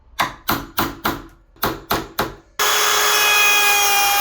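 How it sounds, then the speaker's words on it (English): A sharp chisel cuts shoulders into a wooden door for a night latch, giving seven crisp, evenly spaced chopping strikes up close, followed abruptly by a loud continuous whirring tool noise. "I'm actually going to use my sharp chisel to cut in the top and bottom shoulders"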